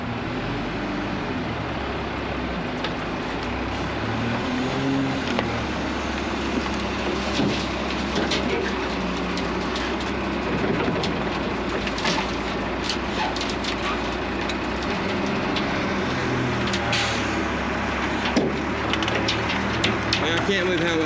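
Heavy machinery noise from an excavator loading dirt into dump trucks: a steady diesel engine drone with clunks and scraping throughout, under occasional talk.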